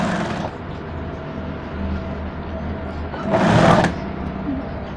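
A sewing machine stitches piping onto a padded bridal blouse, a steady mechanical hum running through the whole stretch with a brief louder burst near the end.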